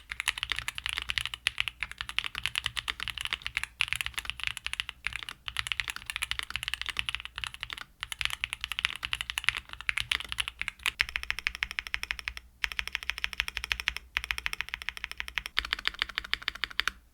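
Steady, fast typing on an IQUNIX 1+1 mechanical keyboard, close and continuous clacking keystrokes with brief pauses, no voices.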